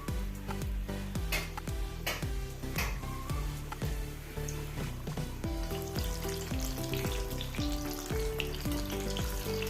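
Kerala-style banana fritters made with rice flour batter deep-frying in oil, a continuous bubbling sizzle heard beneath rhythmic background music.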